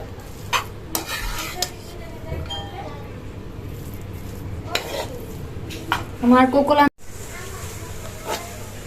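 Noodles being stir-fried with scrambled eggs and Maggi masala in a pan, with scraping utensil strokes and metallic clinks over a low sizzle, including a louder burst of clattering near the end.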